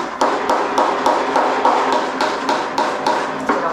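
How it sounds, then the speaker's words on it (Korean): A rubber mallet's urethane face taps a rattan cane tray in steady, evenly spaced knocks, about a dozen sharp hits at close range with no talk. "검은색 고무 망치 쪽으로 하면 때가 묻을 수 있기 때문에 꼭 우레탄 쪽으로 하셔야지만 좋습니다."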